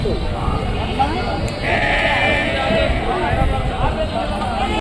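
Goats and sheep bleat over a busy crowd of chattering voices at a livestock market, with one louder, drawn-out bleat in the middle of the scene.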